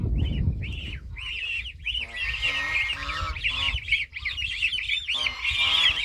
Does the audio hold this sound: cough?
no